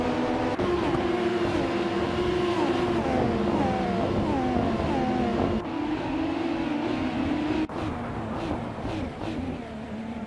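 A 2019 IPS Kuruma race car in a video game, its engine droning loudly and repeatedly revving up through gear shifts, steady and close with other engines blending in behind, while a voice speaks under the noise.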